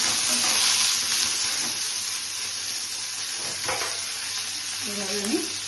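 Onion and ginger sizzle and fry steadily in hot oil, a loud continuous crackle with occasional stirring, no one speaking.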